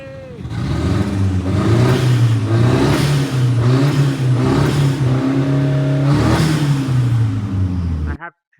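A Nissan CA18DET engine running after starting, loud and close, with a steady rough idle that rises and falls in repeated revs for several seconds, rattling and uneven, before cutting off abruptly near the end.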